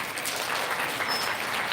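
A school audience at an elementary recognition ceremony claps steadily, a dense patter of applause that fills the room without pause.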